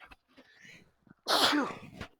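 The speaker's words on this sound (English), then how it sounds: "Got to sneeze" A single loud sneeze close up, preceded by a few quiet breaths and small mouth sounds.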